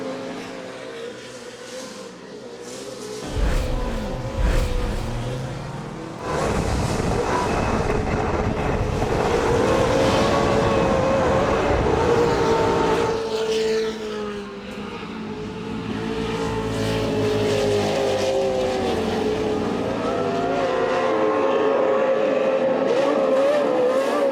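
TORC Pro 4 off-road race trucks roar past at Crandon, loud engines revving and droning with Doppler sweeps, buffeted by wind on the microphone and no voices.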